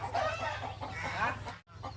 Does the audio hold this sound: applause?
no